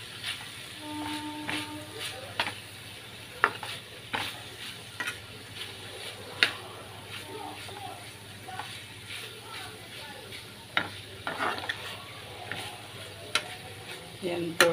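Ivy gourd fries in a pan with spices and coriander powder, giving a soft sizzle broken by sharp spoon clinks and stirring scrapes, with someone talking throughout.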